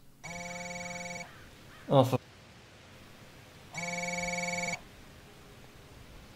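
An old landline telephone in a TV show scene gives two steady electronic ring bursts, moderately quiet, with a short voice speaking between them.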